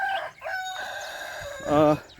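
A rooster crows nearby on a farm, a drawn-out strained call, with a few chicken clucking notes before it; loud and clear with no talking.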